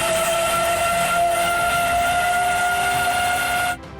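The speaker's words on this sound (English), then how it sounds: "A sharp, shrill whistle cutting through the quiet, a signal every coal miner's wife feared" Sharp, shrill coal mine warning whistle in 1920s Everettville, West Virginia, a steady piercing tone held loud and unbroken for nearly four seconds before cutting off abruptly.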